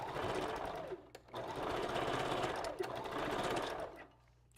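Sewing machine back stitching tracks for a wavy wig, running in steady loud bursts with brief pauses between them.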